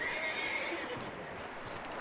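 A horse in the video game Red Dead Redemption 2 neighs, a clear whinny heard close by over soft hoof clip-clops and game ambience, lasting about two seconds.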